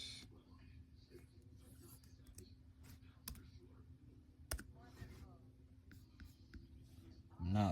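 Faint, scattered clicks from typing on a computer keyboard, irregular taps against a quiet room hum, with a louder burst of sound at the very end.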